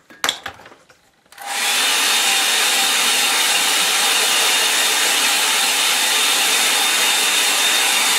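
A few brief knocks and handling sounds, then a hair dryer switches on and blows a loud, steady close whoosh over a painting of a Cornwall beach scene, running continuously without any talk.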